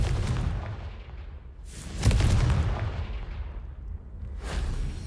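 In the video game Hogwarts Legacy, the Confringo fire spell goes off in loud, booming explosive blasts. Several heavy bursts land about two seconds apart, each one followed by a rumbling decay, and no voices can be heard.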